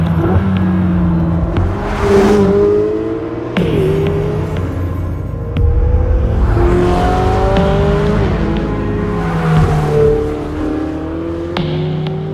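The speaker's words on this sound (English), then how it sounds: "The first thing you notice about driving the 488 GTB on the open road is the torque." Ferrari 488 GTB sports car engine on an open road, loud and close, revving up through repeated rising pulls with brief drops at gear changes, a steady throbbing roar throughout and no voices.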